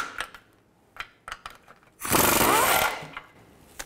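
On a 2000-06 Chevy Tahoe, a 15 mm socket wrench works the oil pan bolts with sharp ratcheting clicks and taps, then a loud burst of buzzing mechanical noise lasting about a second.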